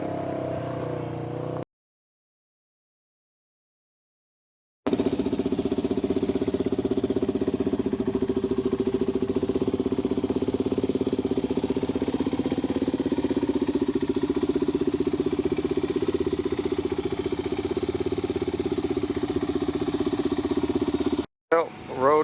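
A 2004 Yamaha TT-R 250 off-road motorcycle engine holds a steady, loud, even drone at close range, broken once by several seconds of silence before it resumes.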